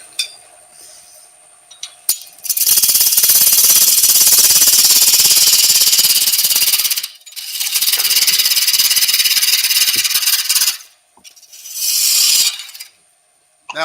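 A wood lathe turning a vase while the end is trimmed with a gouge, a loud harsh hissing and roaring cut in long bursts of several seconds that stop and restart, heard close and alone.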